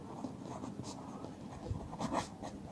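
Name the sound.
writing a formula on a board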